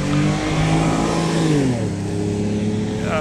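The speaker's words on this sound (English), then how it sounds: "No, that's a Ford F-150, not a race car." A Ford F-150 pickup truck's engine revs loudly and close, its pitch climbing then sliding down as it passes, a steady roaring drone filling the whole stretch.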